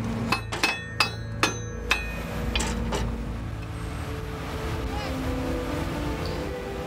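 A run of sharp metallic hammer blows, about seven strikes in quick succession then stopping, close by on a vehicle part being forced into place during a desert repair, followed by steady background noise.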